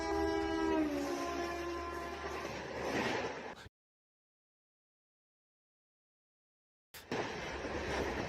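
A high-speed train roars past at a crossing with a tonal horn blast, the sound cutting out abruptly into silence before returning as a rushing noise.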